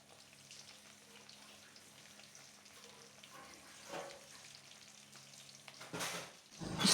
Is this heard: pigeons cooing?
no